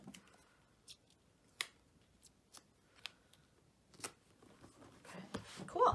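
Scissors trim a printed photo for a planner page, a series of quiet, sharp snips spaced irregularly, with faint paper handling between cuts and no talking.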